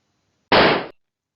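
A single sharp target rifle shot cracks out alone, a sudden loud burst lasting under half a second before cutting to silence.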